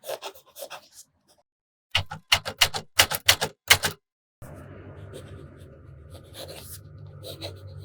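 A fountain pen with a medium nib scratches across paper in a few quick bursts of rhythmic strokes, close and fairly crisp, then a steady low hum of room noise takes over.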